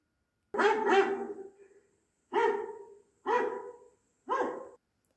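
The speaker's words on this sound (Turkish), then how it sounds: "Evet, köpekler hav hav diye ses çıkartır." A dog barks four times, a quick double bark and then three single barks spaced about a second apart, close and clear with no talking.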